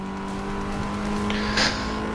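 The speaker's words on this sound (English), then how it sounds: "we move through 4th gear pretty quick in this car with the high Redline setup" A race car with a high-redline setup revs hard through the gears on a high-speed track in a racing video game, a steady loud engine drone climbing in pitch with a brief shift blip near the end.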